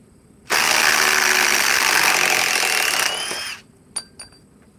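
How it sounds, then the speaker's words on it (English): Cordless impact driver fitted with a 6 amp battery fires in one loud, continuous burst of rapid hammering for about two and a half seconds, then winds down, followed by a couple of faint clicks. "put the 6 amp forge onto the impact driver"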